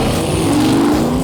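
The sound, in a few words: high-horsepower car engine roaring at the racetrack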